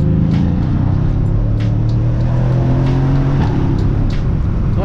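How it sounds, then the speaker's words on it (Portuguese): A BMW M4 engine roars steadily and loudly from inside the car while driving, a deep continuous rumble with shifting pitch and no talk over it. "Nossa, o ronco dela é muito da hora"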